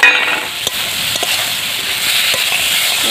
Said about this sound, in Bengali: এবার আমি ভেজে রাখা উচ্ছেগুলোকে দিয়ে দেব।